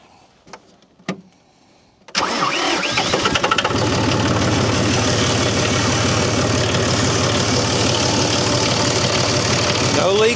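A John Deere tractor engine starts up after a brief quiet spell with a couple of clunks, catching abruptly and settling into a loud, steady, close idle that runs unbroken to the end.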